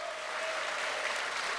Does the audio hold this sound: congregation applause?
yes